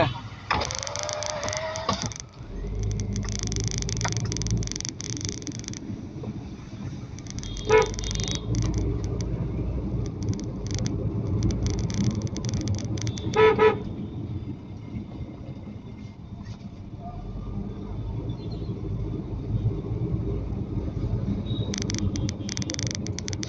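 A car out for a drive on the road, with a couple of short horn toots rising above the steady engine and road rumble, plus occasional rattles and mechanical clicks inside the cabin.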